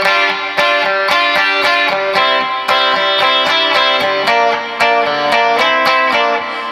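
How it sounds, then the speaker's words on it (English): A Fernandes electric guitar played through a T-Rex reverb pedal rings out steadily, picked notes and chords wash together in a lush, loud, sustained tone with regular attacks and no talking. "I'm using a T-Rex whirly verb in case you're wondering what that sound is"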